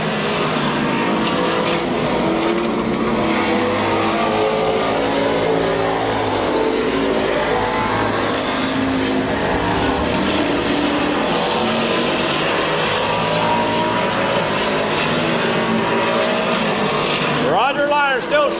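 Race cars circling the oval at Midvale Speedway during a May 2004 event, a loud continuous engine roar that stays dense and steady throughout, with a passing car sweeping by near the end.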